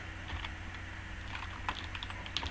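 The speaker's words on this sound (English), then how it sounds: "I'm just typing in the chat." Steady, fast typing on a computer keyboard during a relaxed live stream, a continuous close clatter of keystrokes over a constant low background hum.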